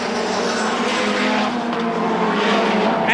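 Touring cars from the 1990 British Touring Car Championship roar through Knickerbrook corner, a loud, sustained engine howl from several cars running close together, with faint tyre noise and no voices.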